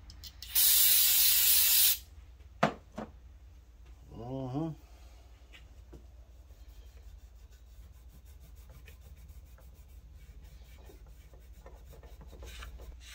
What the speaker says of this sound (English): This all under carburetor cleaner now.